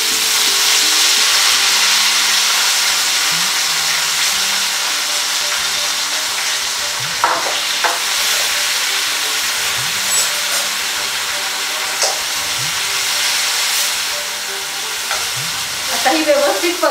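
Crushed garlic frying in a pan for a festival vegetable dish, a steady loud sizzle and hiss with occasional clinks and scrapes of stirring, no voices.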